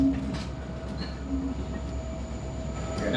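A Lehigh Scenic Railway train rolls along the track toward a bridge, a steady low rumble of wheels and carriages heard from on board, with faint squeals and clicks over the continuous drone.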